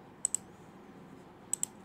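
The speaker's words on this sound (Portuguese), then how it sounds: "Deixa eu arrumar aqui o meu teclado." Computer keyboard being adjusted and typed on at a desk, heard as two pairs of sharp, faint clicks over a quiet room hum.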